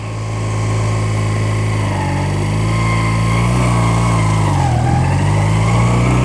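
A car with a manual gearbox pulls away from a complete stop as the clutch is let out and the throttle opened, a steady, close engine drone that rises and shifts in pitch partway through, with no talking.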